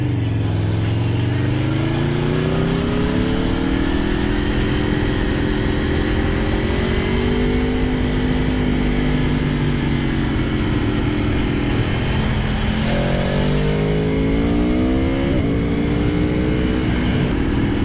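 A 2015 Aprilia Tuono V4R 1000 APRC motorcycle's V4 engine roars loud and continuous as it accelerates, pitch climbing through the gears with shifts and revving swells.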